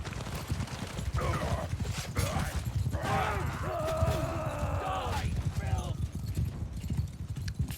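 A horse gallops in a video game during a charge, its hooves clip-clopping steadily and close up under a busy battle soundscape, with a whinny and brief shouts rising midway.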